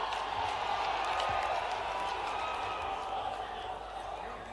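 Crowd applauding at the inauguration of the Rajmata Vijayaraje Scindia air terminal in Gwalior, a broad wash of clapping and crowd noise that slowly fades, with a voice over it.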